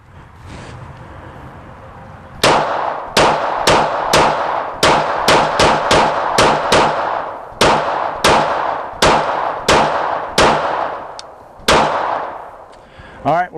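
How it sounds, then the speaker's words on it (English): Pistol shots are fired at a steel target, about a dozen and a half loud sharp cracks in an uneven rhythm, some in quick pairs and others spaced further apart, each with a short ringing tail. "I'm going to fire a few kind of fast, a few of them a little slower to see if I can hit a little better"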